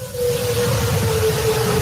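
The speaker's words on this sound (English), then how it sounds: "That's the sound of a tornado siren amid heavy rain in Jackson, Mississippi" A tornado siren drones on a single steady, slowly falling pitch amid heavy rain in Jackson, Mississippi, loud and sustained over a dense, rumbling wash of downpour.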